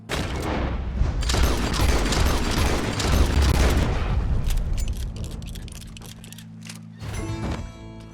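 Gunfire in Red Dead Redemption 2 during a stranger mission against a beast, a dense rapid volley of loud close shots with booming reports, thinning out toward the end, with no talk over it.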